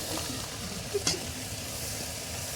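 Cumin seeds sizzling in hot oil with onion for a Punjabi halwai-style pumpkin curry, a soft steady fry hiss with a couple of brief clinks of a spoon, fairly quiet, no speech.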